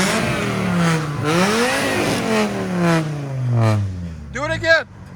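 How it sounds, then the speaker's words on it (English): A 1994 Volvo 850 Turbo with a straight-pipe exhaust and tractor flap revs several times in a row, each loud, close blip rising and falling, ending in one sharp, raspy burst. "Volvo 850 with a flap."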